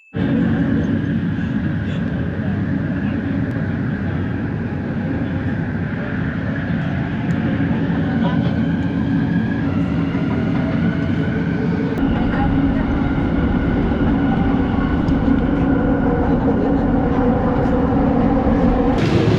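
A Kelana Jaya Line metro train in Kuala Lumpur runs toward KL Sentral, a steady, loud interior rumble and whine of the moving carriage that holds for nearly twenty seconds.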